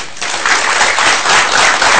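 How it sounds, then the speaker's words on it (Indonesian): A studio audience applauds for Dr. Nova on a televised health talk show, giving a dense, steady wash of clapping from many hands for about two seconds. "Beri tepuk tangan untuk Dr. Nova."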